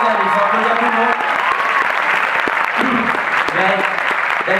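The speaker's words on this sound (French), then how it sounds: "on peut applaudir Greg aussi" Theatre audience applauding at a film premiere event, a dense steady wash of clapping sustained throughout with voices and talk mixed in.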